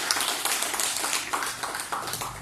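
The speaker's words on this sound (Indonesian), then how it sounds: "Kita berikan sekali lagi satu tepuk tangan." Audience applause at a welfare workshop ceremony, a dense round of hand clapping that stays even and moderately loud throughout the short stretch.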